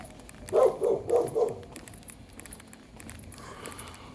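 A dog barks four times in quick succession on a street in Belize City's north side, close and fairly loud, then the street noise stays quiet with faint background activity.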